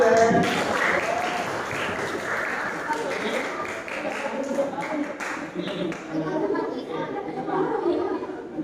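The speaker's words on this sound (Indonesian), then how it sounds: "Tepuk tangan dulu deh." Scattered applause from an audience at an Islamic religious gathering mixes with chatter and some chuckles. The clapping thins out and becomes uneven as voices talk over it.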